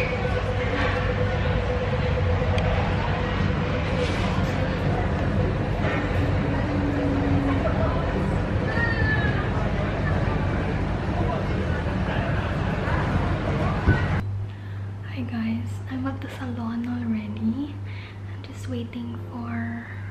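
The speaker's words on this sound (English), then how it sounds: "I'm in the tram now." Rumbling interior of a tram during a ride on a rainy day, a steady low hum and rolling noise filling the first part before shifting to a quieter cabin with scattered clicks and faint voices.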